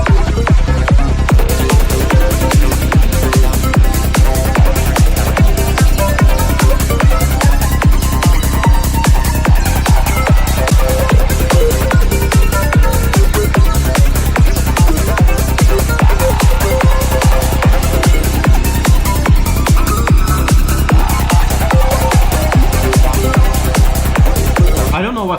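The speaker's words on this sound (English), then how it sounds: "I feel like this is an ARP that isn't in key." A dense electronic track with a pulsing synth arpeggio that may be out of key, running loud and continuous over a steady rhythmic beat throughout.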